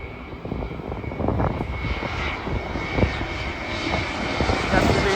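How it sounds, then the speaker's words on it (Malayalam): A jet airplane's engine roar builds gradually as it approaches to land at an airport, a low rumbling drone growing louder toward the end. "അടുത്തൊരു ഫ്ലൈറ്റ് വന്നിരിക്കുകയാണ്"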